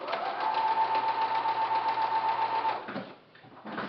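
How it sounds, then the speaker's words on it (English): A sewing machine stitches down a zipper on a fabric pouch with a steady, close mechanical whir for about three seconds, then stops, followed by a few faint handling clicks. "sew it down"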